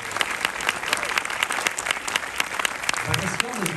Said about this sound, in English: I think we should get a round of applause